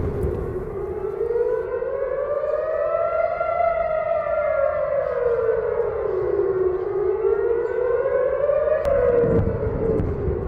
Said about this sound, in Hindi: देर रात की ये वो तस्वीर है जब वेस्ट बैंक में एयर रेड अलर्ट सायरन गूंजे।